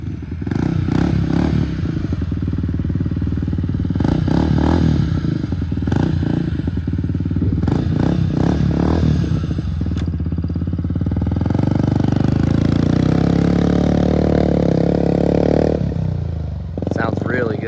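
A Polaris Sportsman 110 youth ATV fitted with an HMF aftermarket exhaust, ridden under load on a test drive: a loud, close engine drone rises and falls with throttle, with a long building rev near the end before backing off.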